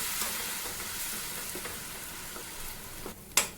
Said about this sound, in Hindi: अब प्याज को गोल्डन होने तक भून लेंगे।